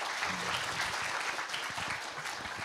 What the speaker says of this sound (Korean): 이재학 PM님께 큰 박수 부탁드리겠습니다